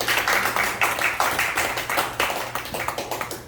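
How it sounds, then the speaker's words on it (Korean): An audience claps to welcome a guest at a gathering: continuous crowd clapping with a brisk, slightly rhythmic pulse, filling the room without a break. "원주에서 오신 윤영호 위원장님 큰 박수로 맞으시면 감사하겠습니다."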